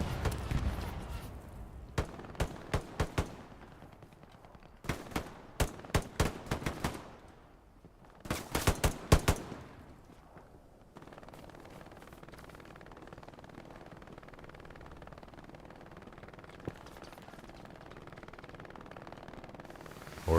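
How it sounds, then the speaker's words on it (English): MG42 machine gun fire in a World War II video game match comes as several sharp rapid bursts separated by pauses, then fades to a low rumble of background battle. "Or MG42 fire."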